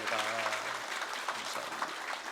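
A congregation claps together during a Sunday worship service in a church, steady dense applause that runs the full length, with a voice singing or speaking faintly beneath it at the start.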